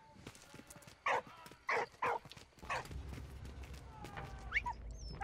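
A dog in the World War I video game Valiant Hearts gives three sharp barks in quick succession, close and clear, over soft game ambience with a few faint scuffs afterward.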